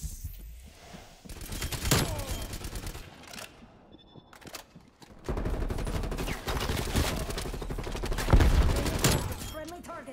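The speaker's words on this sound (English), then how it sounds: "Shoot your gun, bro." EM2 rifle gunfire in Call of Duty Cold War comes in rapid bursts of sharp, close shots separated by brief pauses, mixed with game effects and a player's talk.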